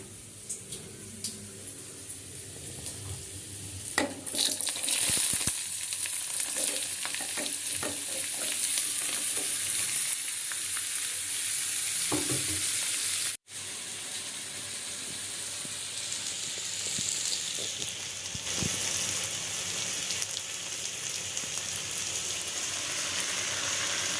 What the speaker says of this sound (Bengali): হালকা একটু ভাপ দিয়ে ভেজে নিচ্ছি